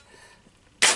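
A cheap foam-dart Nerf blaster fires once, a single sharp close pop with a brief airy burst after a quiet lead-in.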